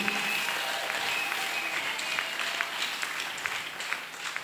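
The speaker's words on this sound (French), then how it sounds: "acclame bien pour la gloire de Jésus" A church congregation applauds and cheers at an evening convention service, steady dense clapping filling the space throughout with a few brighter cheering accents, loud and close, no speech heard over it.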